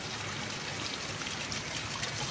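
Steady water trickling and splashing in a dry riverbed, a continuous broadband wash with no voices.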